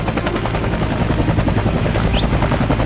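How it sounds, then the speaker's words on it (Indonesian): A helicopter comes in to land in the yard of a house in a film scene, its rotor a loud, steady, dense chopping roar that fills the whole stretch without pause. "sebuah helikopter mendarat di halaman rumah."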